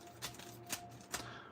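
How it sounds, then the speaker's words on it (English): Faint papery rustling and three soft clicking flicks as Pokémon Mega Dream ex booster packs are shuffled by hand, quiet and close, with a low steady hum beneath. "Gonna shuffle this around again."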